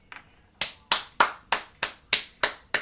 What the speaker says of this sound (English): Clap along, chat. Clap along.